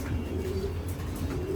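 A pair of racing pigeons coo close by in a loft, low soft throaty calls repeating over a steady murmur.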